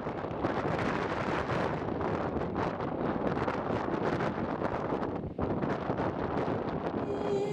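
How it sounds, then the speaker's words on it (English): Strong wind blowing over open land, a steady loud roar buffeting the microphone almost without a break. "it's a hard time for them to listen to the wind"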